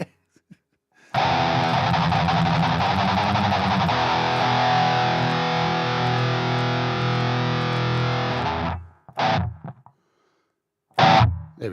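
Heavily distorted metal electric guitar through an iOS impulse-response amp loader plays a loud, sustained riff for several seconds, then breaks into short, clipped stabs separated by silence.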